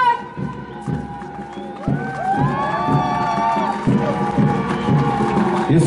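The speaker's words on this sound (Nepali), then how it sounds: "सम्पूर्ण दर्शकले उहाँलाई हर्षोल्लास थपडी मारेर" Spectators at an Independence Day parade at Lebong Public Ground in Darjeeling cheer and clap in a loud, sustained crowd roar, with high whistling tones running through it.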